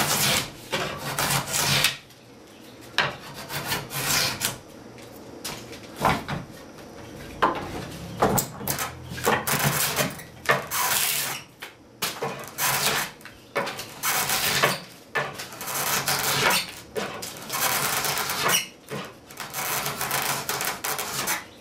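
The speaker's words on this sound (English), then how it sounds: "I'm right on the line there, and I can bevel it" Hand tool shaving a bevel on a riven wooden chair comb, repeated rasping strokes in bursts of several seconds separated by brief pauses, close and loud, with no talking.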